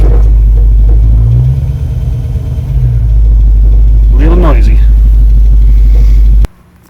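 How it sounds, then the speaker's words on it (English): A 1960s Ford Mustang engine idles with a deep, loud exhaust rumble, a person speaking briefly over it before the sound cuts off abruptly. "Hear the exhaust."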